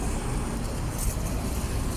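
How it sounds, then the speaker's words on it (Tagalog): Road traffic in Al Khuwair, Muscat, Oman at night, a steady broadband rumble of passing cars and other vehicles that stays loud and constant throughout, with no speech over it. "hindi marinig boses mo kasi may sasakyan"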